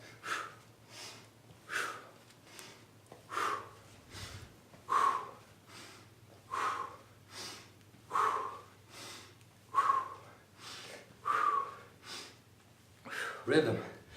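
Regular, rhythmic breaths, roughly one every second and a half, come in and out close to the microphone during a home strength workout with weights, with a faint low hum underneath.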